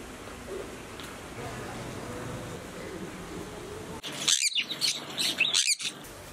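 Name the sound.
birds calling at KL Bird Park, Kuala Lumpur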